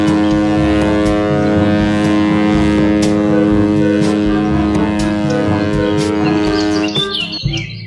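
A toy ship sounds a sustained, steady horn that lasts almost the whole moment, with chirpy bird-like tones layered over it, loud and close, ending in a brief rustle.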